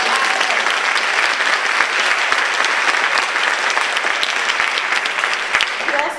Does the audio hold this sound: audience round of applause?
yes